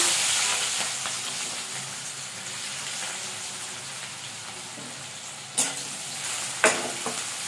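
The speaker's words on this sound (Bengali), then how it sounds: "আর এখানে ইলিশ মাছের জন্য রান্নার জন্য আমি পেঁয়াজ কুচি এই তেলেই দিয়ে দিচ্ছি।" Chopped onions sizzle in hot oil for a hilsa fish curry, a steady close crackle with two sharp clinks of a spoon against the pan near the end.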